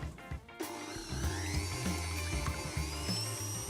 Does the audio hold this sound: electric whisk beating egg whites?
yes